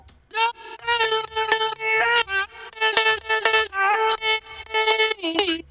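Future house vocal chop melody processed with distortion, cut lows and boosted highs, bright buzzy chopped vocal syllables in a bouncy rhythm over a soft low thump, dense and loud throughout.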